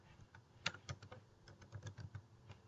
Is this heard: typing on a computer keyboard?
yes